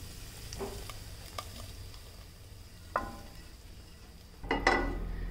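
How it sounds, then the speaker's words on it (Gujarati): Ginger-garlic butter tadka poured into restaurant-style dal makhani: a few soft utensil clinks and stirring sounds come first, then a sudden sizzle bursts up near the end and keeps hissing. "તડકાને આપણે મખનીમાં એડ કરી લઈશું।"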